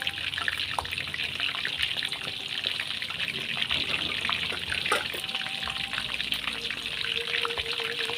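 Cooking oil poured from a bottle into a pan: a steady, fairly quiet trickling stream that runs continuously with faint kitchen noise around it.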